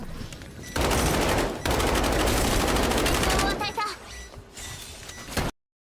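Dense, sustained automatic gunfire from a first-person shooter video game blasts loudly in long unbroken bursts, then breaks into scattered shots and game effects before cutting off abruptly.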